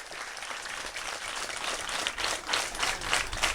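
Crowd applause at an outdoor school donation ceremony in a Senegalese village, moderately distant and steady, swelling slightly louder toward the end.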